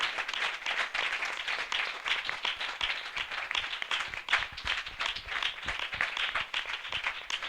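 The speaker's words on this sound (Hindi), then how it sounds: "हम जोरदार ताली से उनका स्वागत करें।" A church congregation at a spiritual passion assembly claps loudly together, a dense, sustained round of applause from many hands filling the room without a break.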